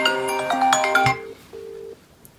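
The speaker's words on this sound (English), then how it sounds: "So the phone is now ringing." A mobile phone rings with a bright, melodic ringtone, loud and close, then fades to a softer sustained tone before stopping.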